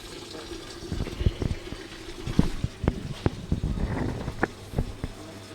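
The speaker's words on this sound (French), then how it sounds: "Voilà, ça déborde, là, ça commence à arriver en bas." Water from a marine aquarium overflows and splashes into an empty sump below, a series of irregular drips and gurgling splashes over a low steady hum, fairly quiet and close.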